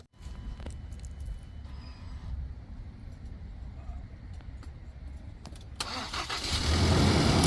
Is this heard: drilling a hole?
no